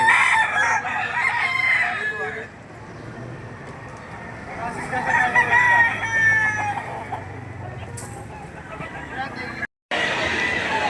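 Roosters crow again and again at a busy chicken market in Lipa, Batangas, with clucking fowl and a constant crowd murmur, and voices talk throughout.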